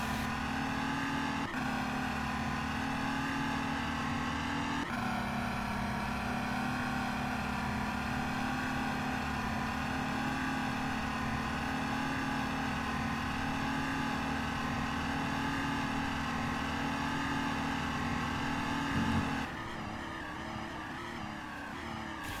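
Race car in a 24 Hours of Le Mans racing game accelerating hard, a loud sustained high-revving engine whine climbing through the gears with abrupt shift breaks, steady and close throughout.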